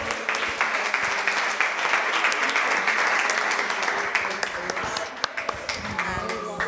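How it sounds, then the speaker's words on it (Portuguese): A church congregation at a worship service claps together, loud and sustained applause close by, with voices calling out over the clapping. "Pode aplaudir ao Senhor."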